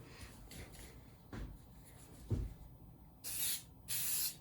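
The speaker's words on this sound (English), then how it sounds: "I got just a shellac spray for this" Two sustained hissing bursts from an aerosol can of shellac spray, each about half a second long, following a few soft knocks and handling noises.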